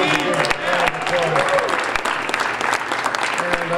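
Loud, sustained applause from a pep rally crowd celebrating New Mexico State, steady for several seconds with faint voices mixed beneath the clapping.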